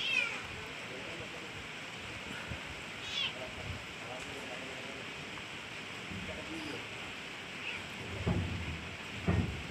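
A cat trapped inside a house ceiling gives a few faint meows, scattered among rustling and scraping noises, with soft speech in the background.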